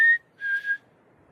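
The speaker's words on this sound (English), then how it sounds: "We're out in the mountains at night, and we just whistled." A person whistles outdoors at night in the mountains: one short clear note, then a brief two-part whistle, close and alone against near silence.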